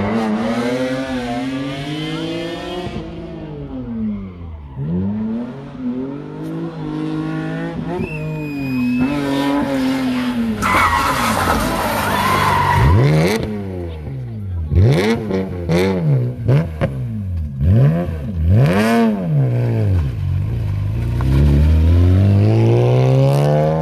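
BMW M3 rally car on a gravel stage at the Rally Masters in Świdnica: the engine revs hard and shifts repeatedly as it accelerates, with tire squeal and skids, growing louder as it passes close by.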